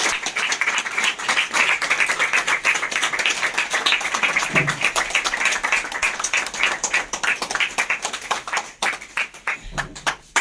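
Loud, sustained applause from an audience at a business event as achievers are invited on stage, many hands clapping densely and continuously with a few sharper claps standing out near the end.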